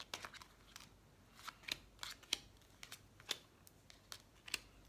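Tarot cards are handled quietly, with a series of soft, irregular snaps, flicks and light rustles of card stock, close but faint, in an otherwise hushed room with no talking.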